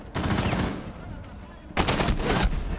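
Bursts of gunfire from a competitive video game match in a tense late round, two dense rapid volleys close together with a short lull between them.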